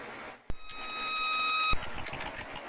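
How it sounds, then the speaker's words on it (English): A single bright electronic ding, like a phone notification, rings out with a sharp click at onset and a sustained tonal chime lasting about a second before cutting off. "Why did it sound like my phone just dinged?"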